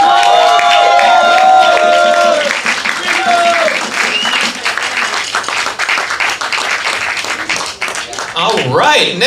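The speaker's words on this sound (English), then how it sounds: "For Big Lux, let him hear it, people." Audience applause at an open mic night, loud clapping and crowd noise filling the room after a performance, with a voice talking over it near the start.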